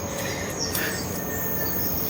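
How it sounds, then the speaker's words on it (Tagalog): Birds chirping and calling outdoors against a steady insect drone, with a few sharp tweets standing out over the constant background. "saka ibon na po yung madinig natin"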